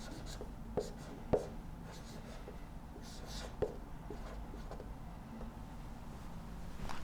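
Chalk or pen writes out an equation during a lecture, with faint scratching strokes and a few sharper taps against a quiet room hum, no talking heard.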